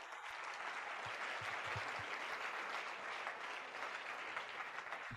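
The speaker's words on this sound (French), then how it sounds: "Applaudissez encore pour elle." Sustained applause from a large church conference audience, a continuous fairly distant wash of many hands clapping at steady level.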